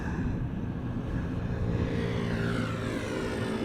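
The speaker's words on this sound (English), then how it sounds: "BA flight 431 to London Heathrow, making its way over here" British Airways jet at Schiphol Airport, a loud, steady engine roar close by with a broad rumbling wash that holds constant throughout, no voices.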